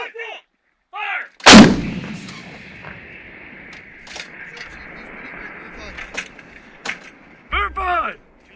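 A U.S. Army field artillery gun fires once in direct fire explosive training at Fort McCoy, a huge close blast with a long rumbling tail, as shouted commands come just before and crew voices follow.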